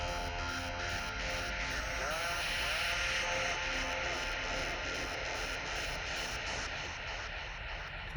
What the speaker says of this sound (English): Let's try bright noise.